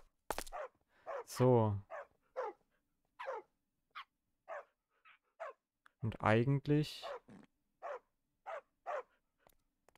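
Dogs in the Minecraft FTB Revelation modpack bark repeatedly in short, sharp yaps with a couple of longer whines, fairly close, while someone speaks briefly at the start.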